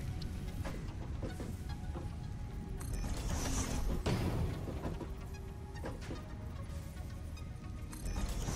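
Constructor machine building screws in the factory game Satisfactory, a busy mechanical clatter of creaks, clanks and gear-like ratcheting, steady and moderately loud without speech.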